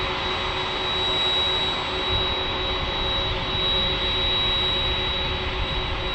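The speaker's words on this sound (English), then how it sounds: "That is a lot of planes, Scott." Jet airplanes passing over during plane spotting in San Diego produce a steady, loud, broadband roar with a thin whining tone on top, sustained for several seconds without talk.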